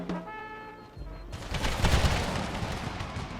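Gunfire opens up in a Civil War strategy video game: after a quiet, tonal stretch, a dense, rolling burst of musket volleys and booming artillery erupts and keeps rumbling to the end.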